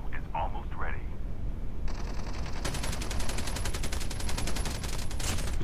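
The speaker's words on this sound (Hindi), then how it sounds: "यहाँ से फायरिंग हुआ, मतलब ये किसी को मार रहा है।" Rapid automatic gunfire from the mobile shooter Call of Duty Mobile, in a battle royale match, with bursts of steady repeated shots that grow denser and louder partway through, alongside a brief voice at the start.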